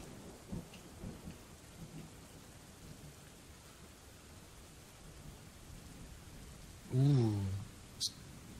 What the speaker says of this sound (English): Ooh. Thunderstorm.